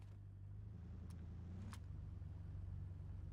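A car's engine drones steadily in DayZ, a low continuous rumble that grows slightly louder as the vehicle approaches, with a couple of brief clicks on top.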